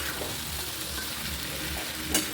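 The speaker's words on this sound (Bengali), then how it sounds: "চিকেনটা দারুণ কষানো হয়েছে, জল দেবো। খুব ভালো করে কষে নিয়েছি।" Chicken sizzles steadily as it is stir-fried in a pan, a continuous close frying hiss with a brief scrape of stirring near the end.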